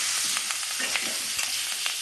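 Green chillies hit already-fried potatoes in a pan for a Bengali bottle gourd curry with small prawns, producing a dense, steady hiss of frying oil with light stirring clatter.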